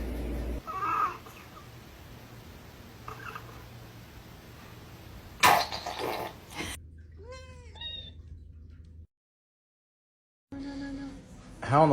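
Several short cat meows come and go among household noise and a brief clatter, with a silent gap before more loud, high cries near the end.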